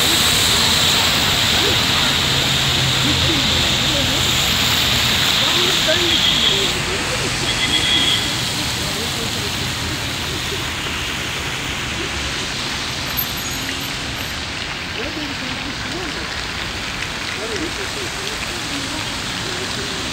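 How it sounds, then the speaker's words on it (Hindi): Steady rain falling on a street in Esenyurt, Istanbul, a continuous broadband hiss that swells slightly louder early on then settles, with no voices over it. "पूरा वीक इसी तरह ही बारिश रहनी है, कभी तेज़ हो जाती है और कभी आहिस्ता।"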